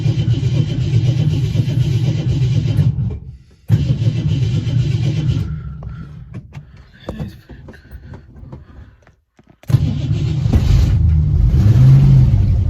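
A Jeep Wrangler engine cranks and catches in the cold, about 10 degrees out, with a loud broadband roar that drops away briefly, runs quieter for a stretch, then surges back to a steady, strong idle.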